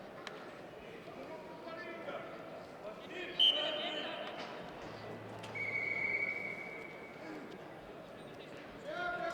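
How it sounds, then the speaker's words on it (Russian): A referee's whistle at a freestyle wrestling match, with one short sharp blast and a longer tone later, heard under a commentator's talk and arena background noise. "Свисток поднимает спортсменов."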